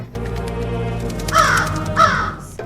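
A crow caws twice in harsh, raspy calls over a low musical drone, loud and close, as the opening sound effect of a dark horror-tale podcast.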